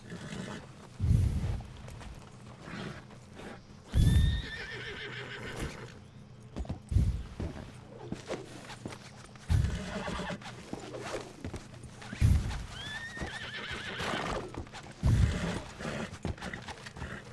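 A horse in the video game Red Dead Redemption 2 whinnies repeatedly, several loud, shrill neighs every few seconds, each followed by heavy thudding hoof steps and snorts, close by and without speech.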